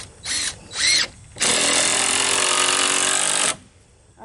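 A power drill drives screws into pallet wood, close by. Two short whirring bursts come first, then a steady run of about two seconds before it stops.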